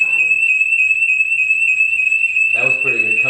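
A home security alarm sounds a loud, unbroken high-pitched electronic tone throughout, steady and close, with a person starting to talk over it near the end.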